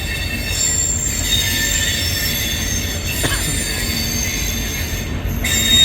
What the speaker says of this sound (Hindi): ये निकली सियालदह राजधानी, बस कुछ ही देर में हावड़ा राजधानी भी निकलने वाली होगी।